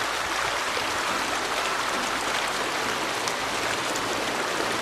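A stream flows beside a hiking trail with a constant, close, broadband rushing and gurgling of water, steady from start to finish and free of any talk.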